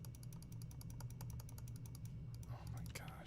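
A computer is clicked during a hacking session: a fast, steady train of faint clicks over a low hum, briefly broken by a rustle near the end.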